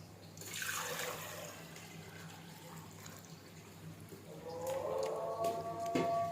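Water pours steadily into a cooking pot for biryani, a broad splashing rush that shifts into a rising, ringing fill tone toward the end, with no talking.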